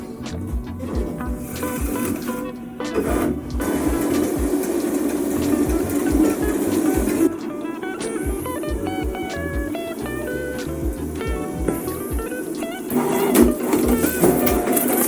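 A cutting plotter works through a piece of scrap film, cutting a badge pattern, with irregular motor whirs, clicks and carriage movements running steadily at close range with no speech.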